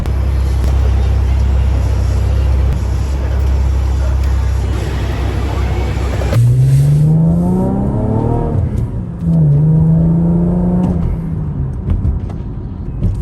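A car drives along with a steady engine hum and road noise that shifts to rising and falling engine tones as it accelerates and shifts gears.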